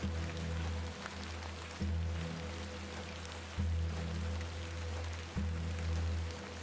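Soft, steady rain hisses over a low droning hum that swells in a slow, regular pulse, from the video game The Excavation of Hob's Barrow. It is quiet and without speech.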